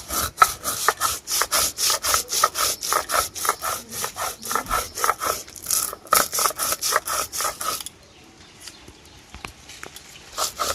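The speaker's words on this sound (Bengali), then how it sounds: "রুই মাছের সর্ষে পোস্তর জন্য নিয়ে নিয়েছি সর্ষে আর পোস্ত। এবার এটাকে বেটে নেব।" Mustard and poppy seeds are ground into a paste on a stone, with fast rhythmic scraping strokes close up, steady for several seconds before stopping, followed by a few faint scrapes.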